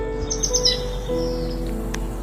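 Baya weaver birds around open fields and grassland give a few high, thin chirps and twitters early on, fairly clear over a steady low background hum, with no voices.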